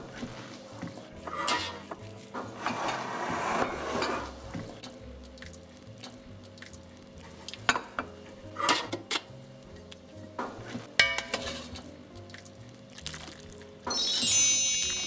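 Boiled, reduced sauce is poured into a root vegetable tagine dish, a wet splashing pour followed by scattered clinks and scraping of utensils against the dish, fairly close and without talk.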